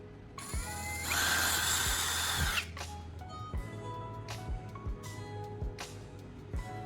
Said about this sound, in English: I'm drilling holes into the PVC pipe at each of the marked locations